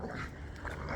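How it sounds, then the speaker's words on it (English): Playful puppies in a garden making short whimpers and scuffling sounds, close and fairly quiet, with no talking. "excuse my puppies there, running around having a good time"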